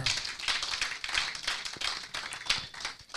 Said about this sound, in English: If you want to clap, do it very well